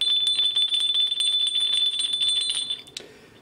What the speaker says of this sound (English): This is the other Dave showing how wonderful his bells sound.